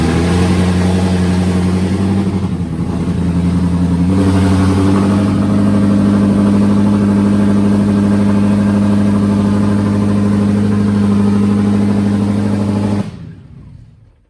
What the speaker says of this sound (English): GT350 engine, Gen 5 Whipple, and an 80 Mustang.